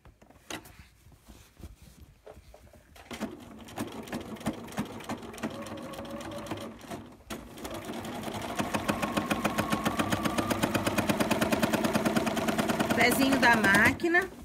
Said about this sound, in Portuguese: Eu vou costurar.